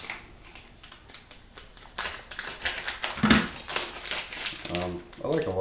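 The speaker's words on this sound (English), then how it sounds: "essentially what I do is you just cut it in little strips like this" A knife slices salt pork into little strips on a board, giving soft irregular taps and crinkly cuts, mostly faint with a few sharper clicks as the blade meets the board.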